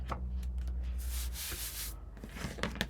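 Paper being burnished down at the edge of a papercraft piece: a close, soft rubbing and scraping, steady and low, with a brighter swipe in the middle and a few light taps near the end.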